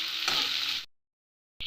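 Onion, ginger, garlic and two chillies sizzle loudly in a hot pan, a bright steady frying hiss that cuts off abruptly into silence and then briefly resumes.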